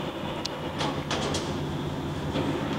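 A 21 by 60 inch Harrison engine lathe runs at a low spindle speed with a steady mechanical hum and faint periodic ticks, moderately close, without any speech.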